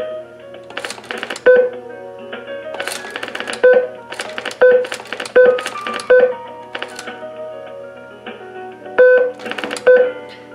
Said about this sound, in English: So we'll dial the conference bridge access number, and a beep confirms the entry.